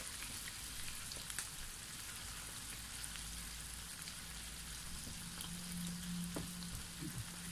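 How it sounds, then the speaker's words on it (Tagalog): Pork meat frying in heated cooking oil, a steady dense sizzle with crackling pops running throughout, close and fairly quiet, with no talking. "Saka po natin i-fry ang ating pork meat."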